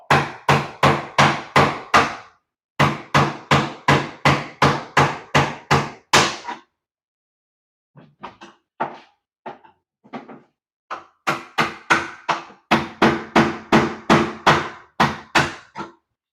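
A 7-in-1 tool prying and hammering at a Bath Fitter tub during removal, giving sharp, loud, rapid knocks in long bursts, a pause, then softer scattered taps before another fast burst of strikes.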